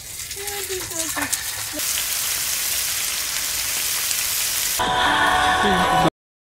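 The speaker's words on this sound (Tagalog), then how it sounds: "Tapos umuulan pa." Rain patters steadily on a surface at a beach campsite, a dense continuous hiss that grows heavier toward the end, with brief tonal sounds early on and no clear talk.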